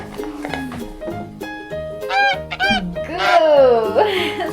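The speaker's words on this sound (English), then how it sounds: "Goose. Right, it's a goose." A goose honks repeatedly, loud and close, in harsh rising calls that build toward the end, set over a rhythmic musical backing without talk.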